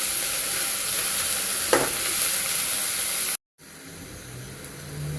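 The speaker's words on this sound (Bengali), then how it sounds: "রসুনের সাথে পেঁয়াজটা একটু ভেজে নিতে হবে।" Onion frying with garlic in hot oil makes a steady loud sizzle with a brief stirring scrape partway, cut by a short gap before quieter frying resumes.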